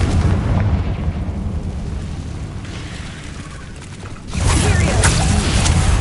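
A Confringo blasting spell in Hogwarts Legacy strikes a barricade, a deep booming burst that erupts loudly near the end after a stretch of low rumbling, mechanical creaking ambience.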